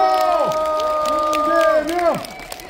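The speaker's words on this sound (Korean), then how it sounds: "이재명 대표님에게 다시 한번 큰 박수로 분심을 주십시오." Large outdoor crowd at a 2024 Korean election campaign rally in front of Starfield Hanam, cheering and applauding loudly; strong gliding voice-like tones run throughout, with a rising, sustained roar across the whole stretch.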